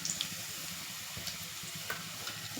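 Whole spices, bay leaf, cinnamon, star anise and cloves, sizzle in hot oil in a pressure cooker. The frying gives a steady close crackle with a few small pops, and no voice is heard.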